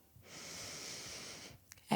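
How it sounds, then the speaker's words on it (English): A slow, deep exhale during a yoga flow, a soft breathy rush rising and holding steady for over a second before trailing off, close and alone. "We'll take a deep breath in here. Exhale."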